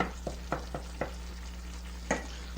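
Pasta sauce simmers in a pot while a spoon stirs it, a soft bubbling bed broken by several distinct scraping strokes, evenly spaced early on, then a louder one after a pause.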